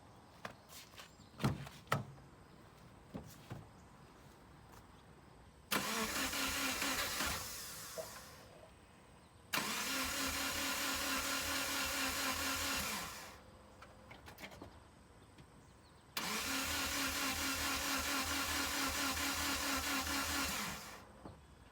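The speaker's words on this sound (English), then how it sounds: "Well, it's turning over, but something's not right." Subaru WRX with a swapped JDM EJ205 engine cranking over without catching in three long bursts of steady, whirring starter churn a few seconds each, separated by quiet gaps, with faint clicks and knocks before the first.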